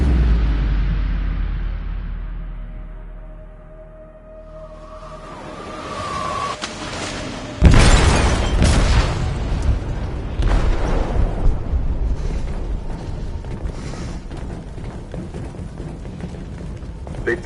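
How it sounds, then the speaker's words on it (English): A heavy in-game explosion detonates in a ship's hold, a sudden loud boom following a quiet stretch, then a long rumbling roar of debris and noise that carries on for many seconds. "They detonated an explosive in the hold."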